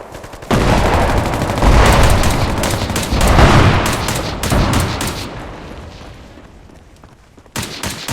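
Heavy, sustained suppressive gunfire in the tactical shooter Bellum, a dense roar of overlapping rifle and machine-gun shots with booming impacts, loud and close, fading slightly before a fresh burst at the end.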